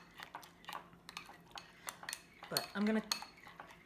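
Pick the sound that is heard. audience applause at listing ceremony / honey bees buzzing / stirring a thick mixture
stirring a thick mixture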